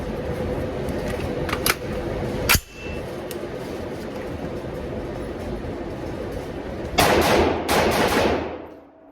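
Rifle shots from a 12.5-inch Hodge barrelled upper firing Norma .223 ammunition: a few sharp, loud reports spaced apart over a constant background hum, then a closing cluster of rapid shots that fades out.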